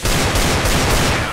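Rapid automatic gunfire in Counter-Strike, a dense, loud burst of overlapping shots lasting over a second with no pauses, nothing else audible.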